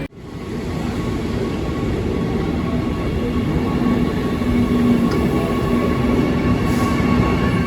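A red train rumbles steadily nearby in Berlin, a continuous loud roar of wheels and carriages with a faint high whine above it, no voices.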